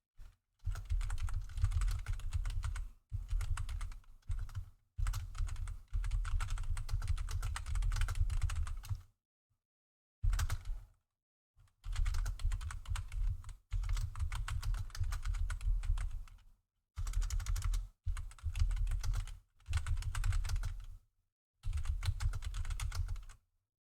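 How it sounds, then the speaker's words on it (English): A noisy computer keyboard clatters in bursts of rapid typing, each run of keystrokes lasting a few seconds and broken by short silent pauses, close and fairly quiet with no talk. "I've got a noisy keyboard"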